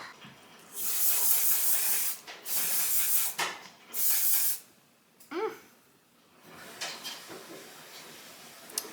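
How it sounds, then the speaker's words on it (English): One Size Until Dawn setting spray misted onto a face, three long close hissing bursts followed by a few shorter, fainter puffs, with quiet rustling between them. "I use the One Size Until Dawn setting spray."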